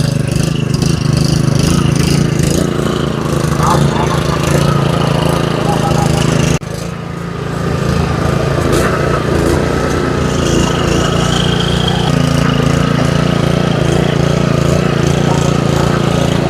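A 5.5 hp petrol engine on an MT460 power sprayer runs steadily and loudly up close, its drone dipping briefly partway through before returning to full speed.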